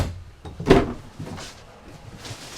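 Large storage drawers at the foot of the bed in a 2025 Jayco Eagle SLE 24MLE travel trailer are handled, giving a soft sliding rumble with one firmer thump partway through, fairly quiet and close.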